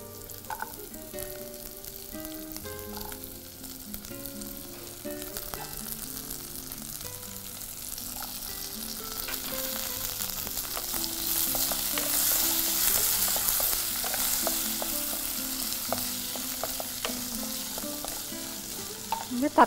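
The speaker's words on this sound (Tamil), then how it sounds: "இது கொஞ்சம் வதங்கட்டும்" Vegetables, including sundakkai and tomato, sizzle and crackle steadily in a hot pan, with occasional stirring scrapes, growing a little louder midway.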